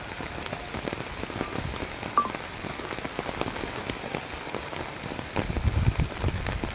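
Heavy monsoon-style downpour in Taunsa Sharif drumming steadily on surfaces, a dense continuous hiss of rain with scattered drop impacts that swells louder near the end.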